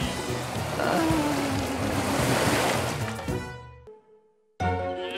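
Cartoon ocean surf rolls in as a loud, broad wash that swells, then fades into near silence before a sudden new burst of sound.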